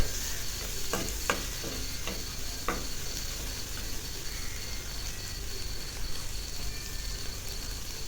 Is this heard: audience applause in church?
no